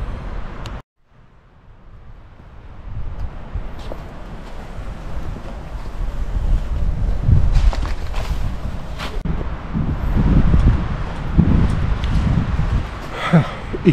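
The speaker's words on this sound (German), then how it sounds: "der Wind nimmt kräftig zu. Es kann also sein, dass man mich vielleicht zeitweise nicht versteht." Strong gusting wind buffets the microphone on a hiking trail around the Fürstenberg hill in the Black Forest, a loud, rumbling roar that swells and surges throughout after a brief dropout.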